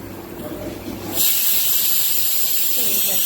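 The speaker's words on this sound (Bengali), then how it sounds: "মোটামুটি অনেকগুলোই সিটি পড়লো, আর একটা পড়লে এবার অফ করে দেবো।" A pressure cooker on a gas stove in a home kitchen lets off its whistle: after a second of low room noise, a loud, sustained hiss of escaping steam starts abruptly and runs to the end.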